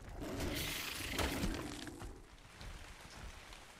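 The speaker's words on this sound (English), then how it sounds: "Rain in one little spot." Rain patters down in one small spot in ARK: Scorched Earth, a soft hissing wash of drops that swells near the start and then eases to a quieter, fainter spatter.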